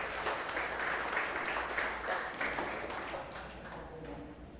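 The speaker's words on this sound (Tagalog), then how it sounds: "Yun pong the best na palakpak para kay Jesus." A church congregation applauding for Jesus during a worship service, a broad roomy wash of clapping with a few distinct claps, gradually fading toward the end.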